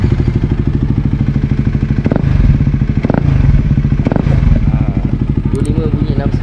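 A KTM Duke 250 motorcycle fitted with a new exhaust idles and runs close by, a loud steady engine pulse broken by a few throttle blips and some clatter.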